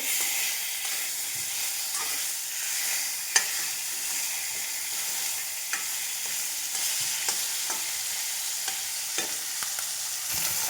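Koi fish frying and sizzling in hot oil in a pan, with a steady crackling hiss broken by occasional scrapes and clicks as the pieces are stirred and turned, close and fairly loud throughout.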